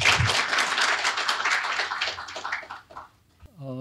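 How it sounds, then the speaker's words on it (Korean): A natural gas forum audience welcomes Professor Kim Chang-sik with a burst of applause that thins out and fades to near silence over a few seconds, before a single voice begins speaking. "힘찬 박수로 김창식 교수님을 맞이해 주시길 바랍니다"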